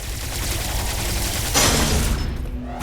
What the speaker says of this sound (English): I'm glad Samus is immune to her own explosions.